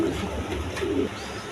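Rajgolla pigeons, a sky-blue pair, coo in a few soft, low, throaty bursts close by, with a steady background hum and no talking.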